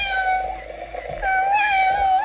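A cat meows twice, loud and close, each a drawn-out tonal cry with a brief pause between them.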